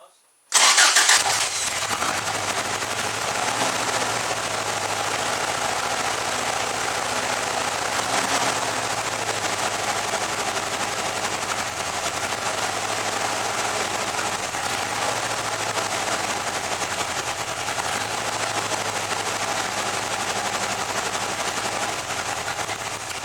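A 1987 Toyota pickup engine, just retimed by three teeth, cranks and catches, then runs on at a steady, loud idle with a rough, slightly uneven rhythm close by for the rest of the stretch.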